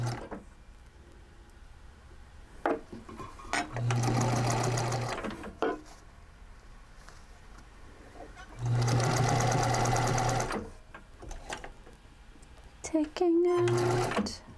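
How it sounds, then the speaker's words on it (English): An electric sewing machine stitches fabric close by in three steady runs of rapid mechanical chatter lasting one to two seconds each, with quiet clicks and handling noises in the pauses. "Being careful to not stitch over any pins."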